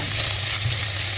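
Ham sautés in a pan with a brief, steady, close sizzle of hissing fat and faint stirring.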